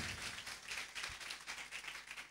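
A church congregation at an Easter service claps together in a sustained burst of applause, faint and distant, with no voices over it.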